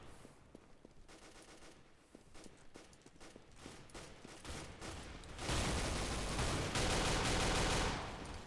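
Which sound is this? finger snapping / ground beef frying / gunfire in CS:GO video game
gunfire in CS:GO video game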